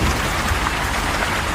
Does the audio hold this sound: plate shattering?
no